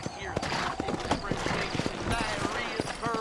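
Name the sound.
horse hooves clip-clopping, from video game Red Dead Redemption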